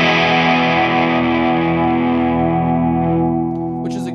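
Electric guitar runs through a JHS Moonshine overdrive pedal, a Tube Screamer-style drive with a mid-range hump, as one loud sustained chord rings out and slowly decays on its own.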